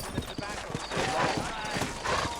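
Horse hooves clip-clop at a walking pace in Red Dead Redemption, several horses stepping in an uneven rhythm while a voice talks over them.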